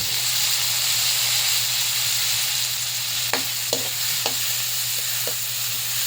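Onions and tomatoes fry in a pan with a steady close hiss and sizzle, broken by a few sharp utensil scrapes and taps near the end; no one speaks.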